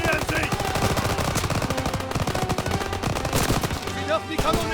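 Heavy machine-gun fire in the Call of Duty WWII German campaign rattles in dense continuous bursts throughout, loud and close, layered with battlefield noise.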